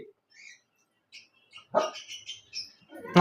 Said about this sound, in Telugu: ఎన్ని డాగ్స్ ఉన్నాయి చూడు